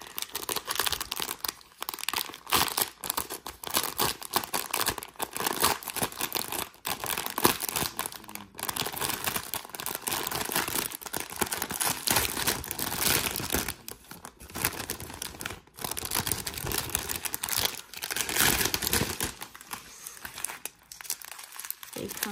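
Plastic packaging for diamond art drills crinkles and crackles loudly and close up, in irregular bursts of crumpling and light tearing that run almost continuously, with a few short pauses.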